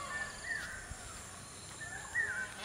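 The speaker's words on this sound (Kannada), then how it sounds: "ಹಕ್ಕಿಗಳು ಪಾರಿವಾಳಗಳು ಕೂಗೋ ಶಬ್ದ ನಿಮ್ಗೆ ಕೇಳಿಸುತ್ತೆ" A crow caws a few times at moderate distance around a village, with short harsh calls separated by brief pauses against a quiet outdoor background.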